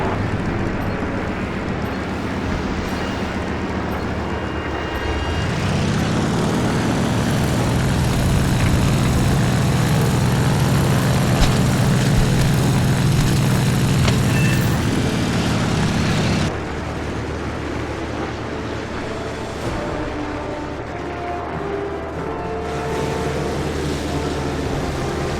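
WWII torpedo bomber and fighter aircraft engines in Birds of Steel drone continuously, a thick, loud propeller roar that swells in the middle and then settles back to a steady hum, without speech.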